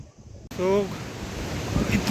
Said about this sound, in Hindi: इतना अच्छा वाटरफॉल दिखा है अभी हमें